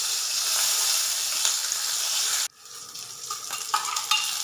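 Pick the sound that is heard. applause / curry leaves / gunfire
curry leaves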